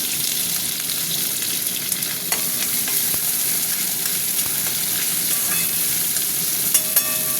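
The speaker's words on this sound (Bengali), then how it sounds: "পেঁয়াজটা ভাজা ভাজা হোক।" Sliced onions frying in oil in an iron wok alongside parboiled potatoes, a steady loud sizzle with occasional scrapes and clicks of a spatula stirring, close up and without speech.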